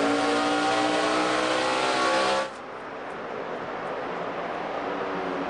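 NASCAR Sprint Cup stock cars racing at Phoenix in the Kobalt Tools 500, a loud roaring pack of engines that cuts off abruptly midway, leaving a lower, steady crowd-and-engine wash.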